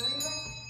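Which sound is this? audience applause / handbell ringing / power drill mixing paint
handbell ringing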